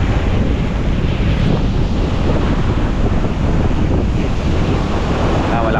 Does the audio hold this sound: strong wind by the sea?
yes